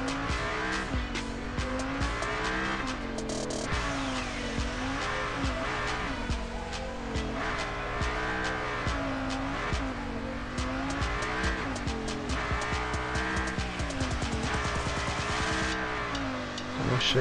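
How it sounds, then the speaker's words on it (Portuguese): A fast car drifts in a mobile drift racing game, engine whining and wavering in pitch while tires squeal steadily through repeated slides, loud and unbroken with no voices. "Tem que dirigir de um jeito bem diferente com esse carro rápido aqui."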